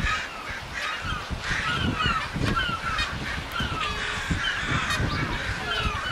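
Geese defending their goslings against an attacking eagle honk in a dense, continuous chorus of harsh calls and flapping commotion, loud and close, without a break.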